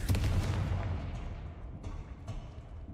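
Confringo fire spell blasting in Hogwarts Legacy, a loud explosive boom at the start that rumbles and fades over the next few seconds, with faint later pops in a quiet stone tomb area.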